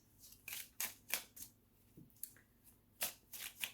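Tarot cards are shuffled and drawn by hand, giving crisp riffling snaps and slaps in an irregular series of about a dozen close, quiet bursts with no talking.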